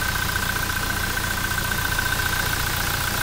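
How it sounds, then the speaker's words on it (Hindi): Toyota Innova Crysta diesel engine idling steadily right after starting, a constant close rumble with a faint knocking character and no voices. "ये हमारी गाड़ी स्टार्ट है, इसका फायरिंग और साउंड भी सुन सकते हैं।"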